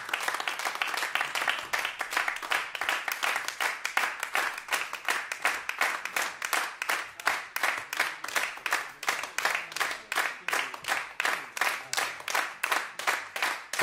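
Steady, dense audience applause fills a jazz quintet concert hall, many hands clapping continuously and evenly for the whole stretch with no talk over it.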